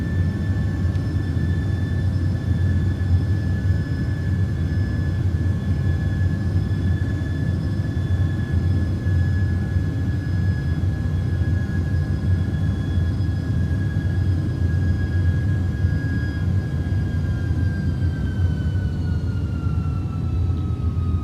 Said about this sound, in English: Do you hear the engine started revving up again?